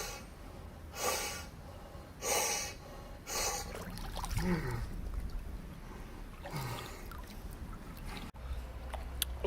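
A swimmer breathes out underwater in cold water, letting off several muffled, bubbly bursts spaced a second or two apart, followed by softer rustling and splashing.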